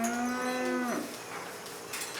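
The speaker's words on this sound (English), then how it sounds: "the cows are brought in from the fields for milking" A single low cow moo sounds for about a second as cows are brought in from the fields for milking in Switzerland, then fades into quiet outdoor background noise.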